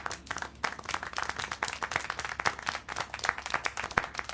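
Steady applause from many hands in the video game Syberia: The World Before, a dense flurry of rapid claps that keeps going without a break.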